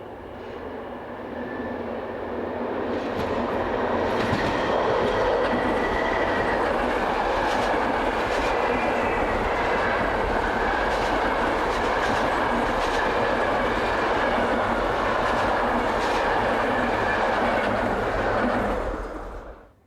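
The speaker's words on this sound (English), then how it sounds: "On the main line is an impressive formation of Class AM 83 units heading east." A formation of Class AM 83 electric train units passes on the main line, a loud, sustained rumble and rush of wheels with rhythmic clickety-clack over rail joints, swelling in and fading out at the end.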